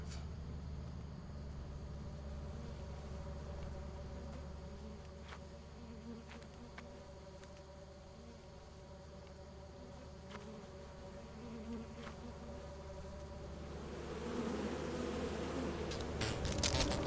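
A beehive in a video game gives off a continuous buzzing drone of many insects, steady and moderately loud, swelling slightly near the end, with a few faint clicks over it.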